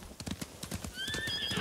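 Quick hoofbeats clop in a rapid rhythm in the video game Ghost of Tsushima, then a horse gives a loud, high whinny that trails off as the hooves continue.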